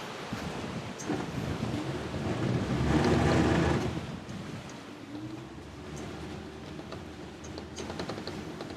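Wind at a boat ramp gusts and rumbles steadily against the microphone, swelling louder midway, with a soft wash like water underneath and no voices.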